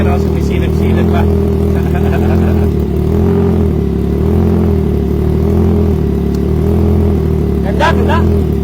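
A Triumph Trident 660 motorcycle with an aftermarket exhaust idles nearby, a steady deep low rumble that holds evenly throughout, with faint background voices.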